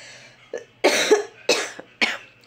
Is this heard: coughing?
yes